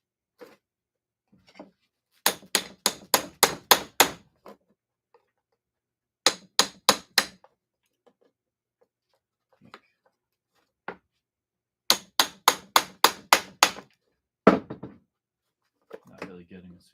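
A hammer drives a chisel into electric organ parts being scrapped for copper, making sharp metallic strikes in quick bursts of four to six blows separated by pauses.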